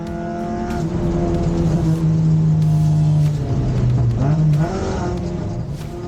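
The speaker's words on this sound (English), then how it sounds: "Spun the wheels all through first and second." A race car in an Excel enduro race in Western Australia, launching at the start with wheelspin through first and second gear: a loud, sustained engine drone that rises, dips at a gear change, then climbs again.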